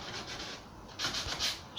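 Sandpaper rubbing back and forth over wooden drawer legs to remove stray paint, a close, steady scratchy swishing with a slightly louder stretch toward the end.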